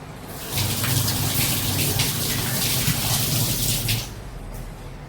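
Onion pieces washed under a running kitchen tap, a steady splashing gush of water lasting a few seconds, close and fairly loud with no talking.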